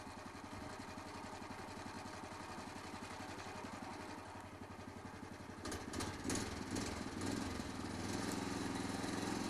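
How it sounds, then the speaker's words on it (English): Engine of a log loading crane running steadily at a moderate, even pitch, fairly close, with a harder, louder mechanical rumble building partway through as the machine works; no talking. "We're going to show you how much easier it is with a loading crane."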